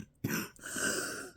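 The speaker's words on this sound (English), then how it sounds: "yes, I still have the cough" A single person gives a rough throat-clearing cough followed by a hoarse, drawn-out exhale, close and fairly quiet, with no speech.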